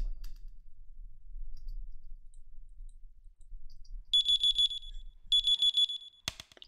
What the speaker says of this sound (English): We then get a little click.